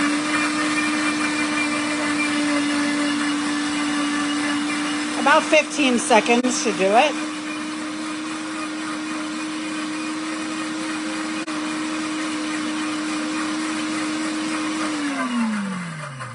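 A kitchen blender run on its pulse setting gives a steady loud motor whine for about fifteen seconds, then winds down at the end; a voice speaks briefly early on over the motor.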